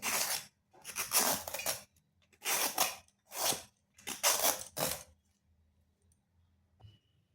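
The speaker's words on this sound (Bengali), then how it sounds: "এরপরে ঝিঙেগুলোকে আমি ছুলে করে কেটে নিচ্ছি।" Ridge gourds being peeled and cut with a knife, a series of short scraping, clicking strokes in separate bursts, close and fairly loud, with no talking.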